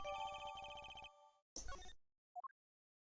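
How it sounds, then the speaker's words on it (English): A cartoonish electronic phone ringtone in the Ace Attorney video game plays as a rapid melodic trill for about a second, followed by a short burst of jingle effects and then three quick rising blips. "Phone."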